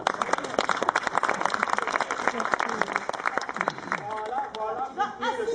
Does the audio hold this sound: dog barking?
no